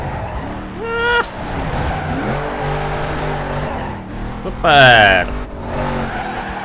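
A car drifts with sustained tire squeal and revving engine in the racing game NFS Carbon, loud and close, with a brief sharp screech burst midway; someone talks briefly over it.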